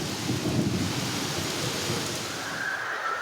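Heavy rain pours down steadily over Nagpur city with a rumble of thunder beneath, a dense continuous wash of sound and no voices.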